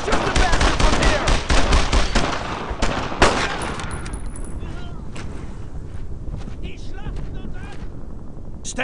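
Heavy gunfire in the World War II shooter Brothers in Arms: Road to Hill 30, with rapid overlapping rifle and machine-gun bursts during a firefight, loud and close at first, then thinning to scattered shots over wind-like battlefield noise.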